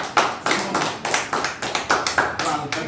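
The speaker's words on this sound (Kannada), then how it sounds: "ಚಪ್ಪಾಳೆ ಹೊಡಿರಿ ಸರ್ಗೆ" An audience at a state and international award ceremony claps steadily in a quick, even rhythm, loud and close, with no voices over it.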